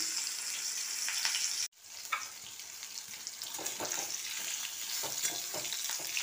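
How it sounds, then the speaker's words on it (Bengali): Eggplant and potato fry in hot tempered oil with a steady bright sizzle, briefly cut off by a sudden short drop, then resuming with intermittent crackles and stirring scrapes. "ফোড়নটা ভালো গরম হয়ে গেছে, আমি বেগুন ছেড়ে দিলাম"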